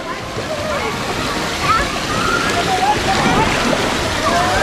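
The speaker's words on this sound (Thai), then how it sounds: "น้ำกระจายเลย" Water splashes and sloshes continuously at a water park, loud and busy throughout, with people talking over the rushing spray.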